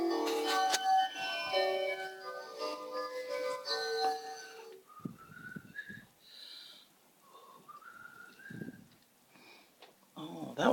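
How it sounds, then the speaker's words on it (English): A fancy little doorbell plays a bright, tinkling chime melody, followed by softer scattered tones and rustling in a quiet home decorated for Christmas. "Oh, that was the fancy little doorbell."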